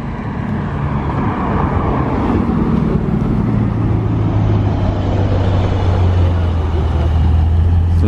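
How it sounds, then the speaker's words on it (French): Bugatti Chiron supercar rolling through Monaco in a convoy with a 6x6, a steady low engine drone that deepens midway amid continuous street and traffic noise, loud and close throughout. "la deuxième Chiron qui bouge de Monaco en convoi avec le 6x6"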